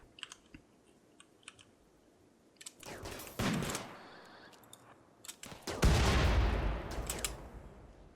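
Gunfire in the Rimworld video game during a base invasion, several short bursts of shots with quieter clicks between, loudest near the middle and end of the clip.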